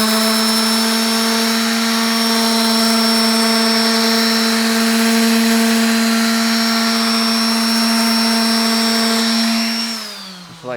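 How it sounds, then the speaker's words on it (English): Random orbit sander rounding the edge of a wooden bow, a loud continuous high-pitched whine with steady abrasive hiss that winds down at the end. "it's faster with a random orbit"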